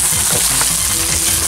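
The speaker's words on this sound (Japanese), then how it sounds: "これとこれとをざく切りにして、炒めていきます" Chopped Manganji peppers sizzle and crackle loudly as they are stir-fried in a pan, a dense, steady frying hiss with the clatter of stirring underneath and no talking.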